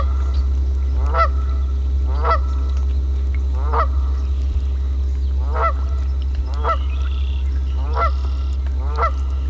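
Cackling goose honking in short, clipped calls, about eight evenly spaced honks over a steady low hum.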